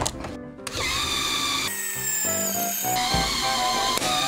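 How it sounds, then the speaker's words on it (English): A LEGO twisting machine's motor whines as it spins a plastic axle, the pitch rising and shifting in steps as load builds, loud and close with no talk. "This machine will spin the axle with increasing force until it breaks or twists beyond recognition."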